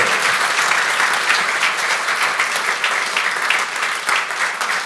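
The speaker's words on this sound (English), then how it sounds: "let's give Svetlana a big round of applause" A conference audience gives a loud, sustained round of applause, dense and even throughout.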